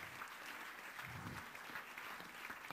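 Studio audience applauding as guests leave a German TV show, a steady dense wash of clapping at moderate distance with no voices over it.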